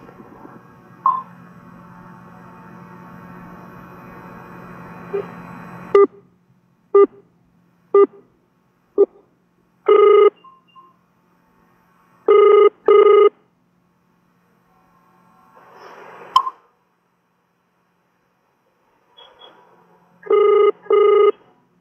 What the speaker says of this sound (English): a very quick video comparing the call completion times between a regular phone call placed over a circuit switched line and a VoLTE call